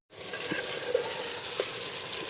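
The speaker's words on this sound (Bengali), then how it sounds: "দিয়ে এবারে বেশ সুন্দর করে নেড়ে বেশ ভালোভাবে মাংসটাকে কষিয়ে নেব" Handi chicken and raw potatoes fry in a pot with a steady close sizzle, joined by a few soft stirring scrapes. The sizzle is loud and continuous with no talking over it.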